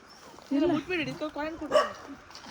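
Dogs bark and yelp at night along a dark rural road, a close, loud burst of several overlapping barks and whines lasting about a second and a half before fading.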